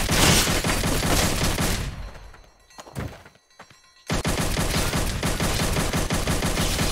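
Gunfire in the VR combat game Blade and Sorcery: dense, loud, continuous shooting that drops to a brief lull of scattered shots, then resumes at full intensity.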